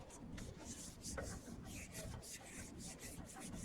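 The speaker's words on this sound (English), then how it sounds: "I'm still just smoothing out from the edges, from the center to the edges, to try to get it as smooth as possible" A hand smooths paper onto an architecture model, working from the centre out to the edges, making soft, close, continuous rubbing and scraping strokes in an uneven rhythm.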